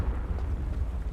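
A fiery Confringo spell blast in Hogwarts Legacy, a deep muffled rumbling boom with a heavy low roar that lingers loudly through the short moment, no voices over it.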